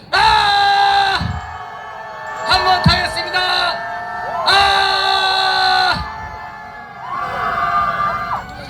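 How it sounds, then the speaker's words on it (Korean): A large crowd at a political rally roars, shouts and cheers in loud surging bursts with pauses between, high voices whooping over the mass of sound; a speaker's amplified voice comes through briefly. "우리 대통령님께 우리의 정성과 함성이 들릴 수 있도록 힘찬 함성 부탁합니다"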